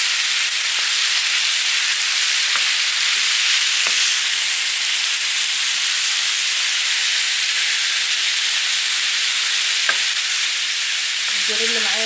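Lamb liver, spleen and kidneys fry in a very hot pan, giving a loud, steady, close hiss of sizzling fat and juices with a few faint taps of stirring, and no voices.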